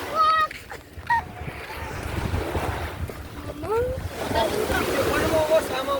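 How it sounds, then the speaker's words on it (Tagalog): Sea waves wash on the shore at Pangasinan under gusty wind noise, with people talking and calling out over the surf. "Andito kami ngayon sa dagat na, ano to? Pangasinan po."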